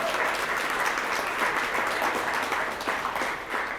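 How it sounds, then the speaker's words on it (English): Steady, dense audience applause at a credit union's annual meeting, filling the room at an even level from start to finish with no voices standing out. "Let's give Marshall a round of applause."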